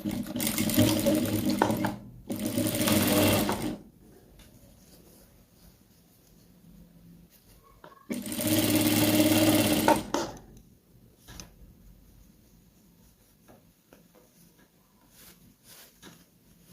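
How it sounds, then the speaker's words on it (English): A sewing machine stitches a drawstring scrunchie in two loud runs: a pair of short bursts near the start, then a longer stretch midway. Quiet handling noises fill the pauses between them. "I'll show you while I'm doing that on the sewing machine."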